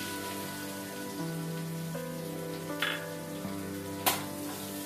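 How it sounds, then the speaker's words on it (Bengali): Chopped onion hits hot oil with garam masala in a pan for duck curry, setting off a continuous close crackling sizzle like light rain, with a few louder pops. "এবারে পেঁয়াজ কুচি অ্যাড করব।"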